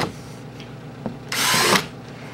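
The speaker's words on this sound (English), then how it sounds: "I'm just drilling holes in them" A power drill bores holes through plastic storage totes, a brief loud whine lasting about half a second after faint handling knocks, then quiet again.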